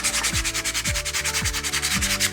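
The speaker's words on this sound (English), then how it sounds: "we sand in the same direction as that grain." Rhythmic back-and-forth sanding on a wooden toy tractor along the grain, steady rasping strokes about twice a second, close and loud with no voices.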